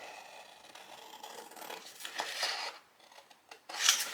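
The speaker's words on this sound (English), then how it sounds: "I'm just going to do it with scissors." Scissors snip around a paper template during card crafting, a run of soft scratchy cuts that ends in a brighter, sharper snip.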